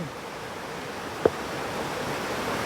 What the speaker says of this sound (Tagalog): Ito yung small falls.